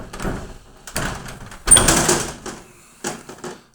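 Rear doors of an Iveco Daily Euro 2 van close badly, giving a few loud, close metallic clunks and rattles with short gaps between them and no talk.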